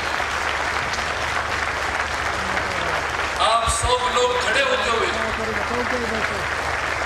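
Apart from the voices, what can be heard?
audience applauding loudly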